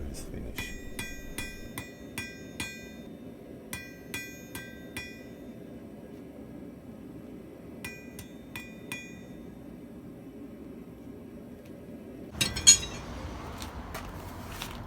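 Sharp metallic hammer strikes on an anvil ring out in quick bursts of several blows with pauses between, over low background hum, ending with a louder clattering scrape, while forging tapers.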